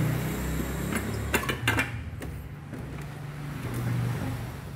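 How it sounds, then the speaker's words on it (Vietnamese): A Honda Wave S100 motorcycle engine starts and settles into a low, steady idling rumble, with a few sharp clicks and knocks near the start. "Rồi chấm xăng cho nổ máy mày nè."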